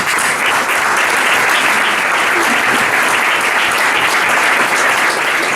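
A large audience applauds continuously, a dense even wash of many hands clapping at a steady loud level throughout, with no voices standing out.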